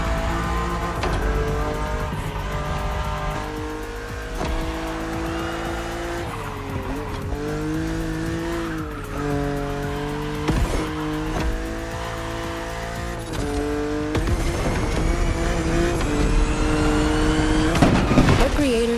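A BMW racing along an open road in The Crew Motorfest, engine droning steadily with shifting pitch as it accelerates, tires squealing in places, all set under continuous background music.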